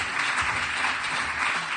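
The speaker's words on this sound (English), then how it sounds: "So let's warm round of applause for Albert." Audience applause for Albert Bates after his introduction at a talk on ecovillages and climate change: dense, even clapping from a room of people, sustained throughout without a break.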